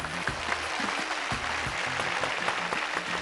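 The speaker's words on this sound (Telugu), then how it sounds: "క్లాప్స్ కొట్టండి అందరూ" Studio audience on a Telugu television game show clapping steadily together, a dense sustained applause with no voices over it.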